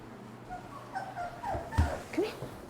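Puppies give several soft, high whimpers and yips in a quiet room, the thin cries rising and falling in short bursts, with one low thump midway.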